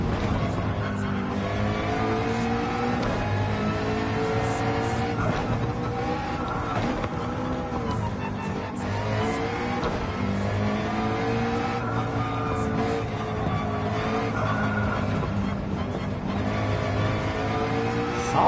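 Race car engine in Gran Turismo 7 revving and pulling hard, a steady loud drone with rising and falling pitch sweeps as it accelerates through gears, with no talk over it.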